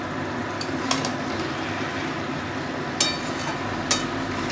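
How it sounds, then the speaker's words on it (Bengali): Pumpkin stir-frying over a high gas flame in a pan for a Bengali dish: a steady, close frying sizzle runs throughout, broken by a few sharp scrapes and clinks of the spatula being stirred. "নেড়ে চেড়ে এভাবে আমি ভাজা ভাজা করে নেব।"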